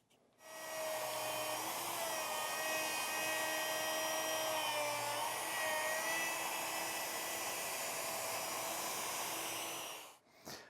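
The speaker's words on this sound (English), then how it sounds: "so it's going to cut a 1/4 inch wide rabbet, and I need to cut it a 1/2" deep." A power tool cuts a 1/4 inch wide, 1/2 inch deep rabbet in wood during a drill press table build. It gives a steady, loud, high whine that starts abruptly, holds for about ten seconds and then stops.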